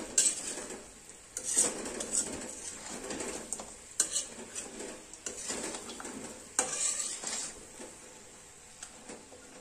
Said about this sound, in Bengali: মাঝে মধ্যে একটু নাড়াচাড়া দিতে থাকে, এটা পোড়া লাগবে না